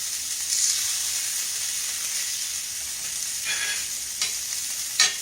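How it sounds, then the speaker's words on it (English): A hamburger steak fries slowly in a pan with a continuous, fairly quiet sizzle and hiss, broken by a few brief louder pops and spatters near the end. "All right, while that's frying,"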